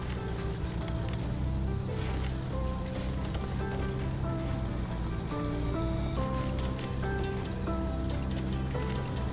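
A heavy off-road truck in SnowRunner ploughs through a shallow stream, with a steady low engine rumble and rushing, splashing water, all under continuous background music.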